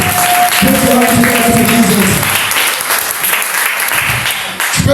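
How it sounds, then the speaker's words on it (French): A church congregation at a Sunday service claps loudly in acclaim to Jesus, dense sustained applause from a full crowd, with voices and cheering mixed in. "Acclame Jésus. Acclame Jésus."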